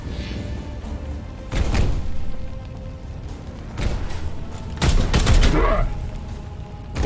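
Bursts of gunfire in the video game Warhammer 40,000: Chaos Gate - Daemonhunters break out in rapid volleys, several loud clusters of shots over a continuous background rumble.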